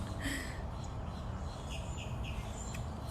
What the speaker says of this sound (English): grackles are really brave.